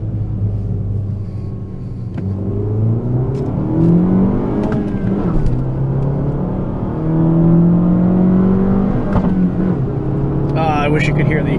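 Fiat 500 Abarth accelerating hard uphill, its engine note climbing steadily in pitch through rising harmonics over a loud in-cabin rumble, with voices talking over it near the end.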